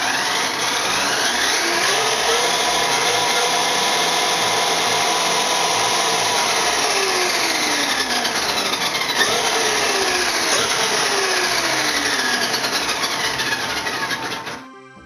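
Traxxas X-Maxx RC car motor held at low throttle, a steady high whine with rising and falling pitch sweeps, loud and close, running alone before cutting off at the end.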